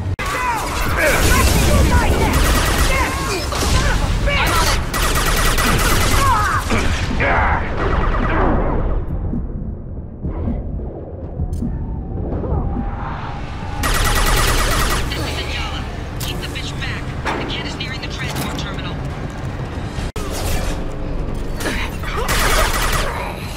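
Rapid gunfire from a video game set along a conveyor line in a cargo area, loud bursts of shots and impacts dense at the start and again later, with in-game voices talking over the action.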